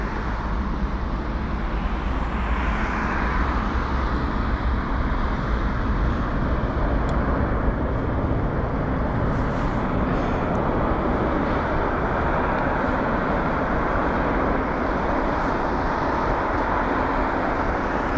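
The BA350 airliner lands on runway 27 right at London Heathrow, a steady broad roar of jet noise heard from a distance, continuous and even throughout without a distinct peak.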